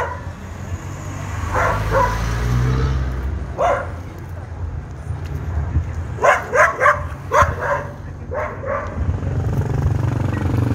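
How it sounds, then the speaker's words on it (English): Dogs bark outdoors in Cayambe on the day of an anniversary parade, several sharp barks coming in a quick cluster and then scattered, with people talking and background noise around them. "Of course, got the dogs barking."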